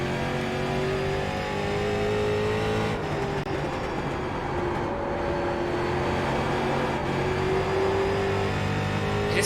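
A street stock car engine in iRacing at Southern National drones steadily with shifting revs as the rear wheels spin under light throttle, a continuous mid-loud engine tone throughout.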